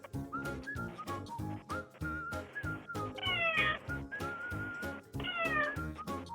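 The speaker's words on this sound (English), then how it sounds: "This cat is desperately trying to alert the owner to open the door." A cat meows repeatedly at a door, caught on a doorbell camera, in insistent rising calls with short gaps and some whistly, high-pitched cries, fairly close and alone.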